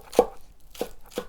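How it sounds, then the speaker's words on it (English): Three crisp chops of a Chinese cleaver pushing through vegetables onto a board, spaced unevenly with short pauses between strikes, close and clear with no talking. "This is also where you could get into a push chop."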